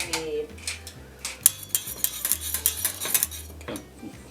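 Spoon scraping and clinking against a pot while a Thai dessert mixture with salt and pepper is stirred until thick, with steady close metallic scrapes and taps repeating throughout, no talking.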